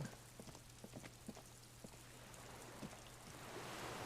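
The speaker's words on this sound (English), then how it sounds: "Well, it's raining, we know that much." Soft, steady video game rain patters on a surface with scattered drops tapping, quiet and continuous with no voices, in Disco Elysium.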